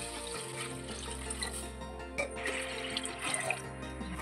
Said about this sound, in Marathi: आता याच्यामध्ये 1 तांब्या पाणी टाकायचं आहे।